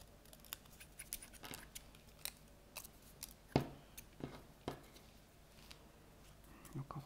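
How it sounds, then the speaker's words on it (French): Scissors cut paper for a scrapbook card in a string of crisp, separate snips, near and quiet, with irregular pauses between cuts. "Une fois qu'on a fait ça, hop, on va se le découper là."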